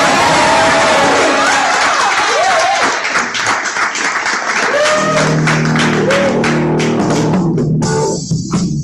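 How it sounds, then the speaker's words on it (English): Loud audience applause and cheering at an indie improv comedy show, with whoops and shouts over sustained clapping that drops off at the end. "let's give a round of applause for two nice"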